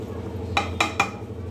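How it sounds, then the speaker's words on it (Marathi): A pressure cooker being readied for vegetable pulao gives three sharp metallic clanks in quick succession, close and fairly loud over a quiet kitchen background. "आता मी इथं कुकर लावून देते."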